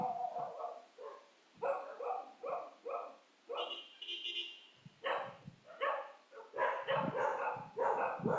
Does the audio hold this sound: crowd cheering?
no